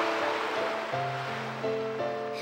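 Ocean surf washing onto a shore in a Japanese dating game, a steady broadband hiss of waves heard under soft tonal background music.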